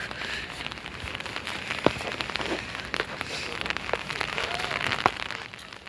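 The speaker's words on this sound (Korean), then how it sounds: "지금 비가 오거든요" Steady rain patters on a surface throughout, with scattered sharper drops ticking above the continuous hiss.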